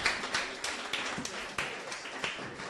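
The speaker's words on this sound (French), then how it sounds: "Je pense qu'on peut l'applaudir quand même." Sparse, scattered clapping from a small audience at a lecture on Black cultures and fractal mathematics, quiet and uneven with individual claps standing out.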